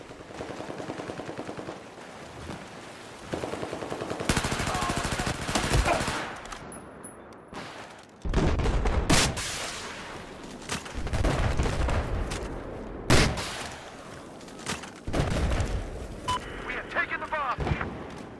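Rapid bursts of ACW-R carbine fire in Battlefield 4 crackle in loud, repeated volleys separated by short pauses, with heavy booms and game effects mixed in and a voice talking over parts of the action.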